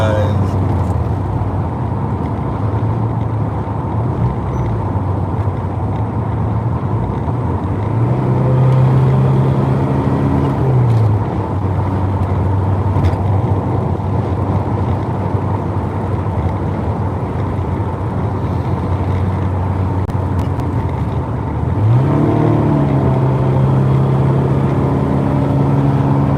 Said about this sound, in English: Hopefully you guys can hear the engine. This is a little bit louder of an exhaust than stock.